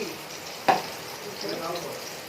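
Pointed gourd frying in a pan, a soft, low sizzle with one sharp clatter as it is stirred, quiet and close.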